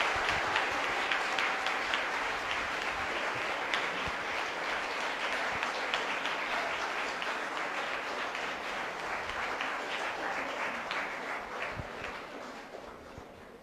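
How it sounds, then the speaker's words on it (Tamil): Loud, sustained audience applause at a Republic Day special debate show, a dense continuous roar of clapping lasting over thirteen seconds and slowly easing toward the end. "ஒரு உரத்த கைத்தட்டலை உங்களுக்குள்ளேயே நீங்கள் எழுப்பிக் கொள்ளுங்கள்"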